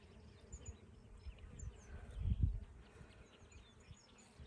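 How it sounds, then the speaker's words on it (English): Bees and other pollinators buzz faintly around a patch of sneezeweed flowers in Texas, a soft low hum that swells briefly midway, with thin bird chirps high in the distance. "When you walk through them, you can just hear that buzzing."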